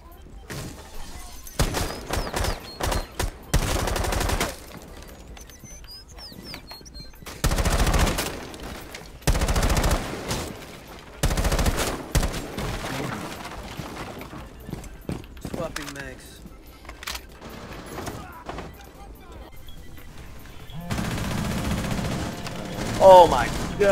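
Shots in a first-person shooter video game ring out in short broadband bursts scattered across a tense round, some loud and some distant, with frequent player talk throughout.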